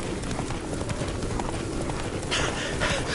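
Roach the horse gallops in The Witcher 3, a rapid, continuous clip-clop of hooves close by, loud and rhythmic throughout with a faint voice underneath.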